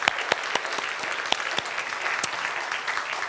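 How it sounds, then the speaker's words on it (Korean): A church congregation at a Sunday service applauds warmly, dense clapping with a few sharper individual claps standing out, moderately loud and steady. "우리 뜨겁게 박수 한번 하겠습니다"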